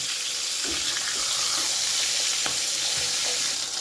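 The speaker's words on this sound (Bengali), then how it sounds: "এবারে আমি মাছের মুড়োগুলো ভেজে নেব মাছের মুড়োগুলো কিন্তু একটু কড়া করেই ভাজবো" Rohu fish heads fry in hot oil with a steady, dense sizzle and occasional soft clinks and stirring sounds.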